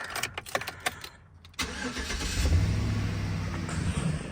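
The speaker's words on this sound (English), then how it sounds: "You hear the sound of that beautiful V8. It's a Vortec." A Chevrolet Vortec V8 truck engine cranks and catches after some opening clatter, then settles into a steady, loud idle with a low rumble, close by and heard alone.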